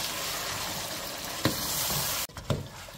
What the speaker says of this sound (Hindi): अब हम इसको थोड़ा सा चम्मच चलाएंगे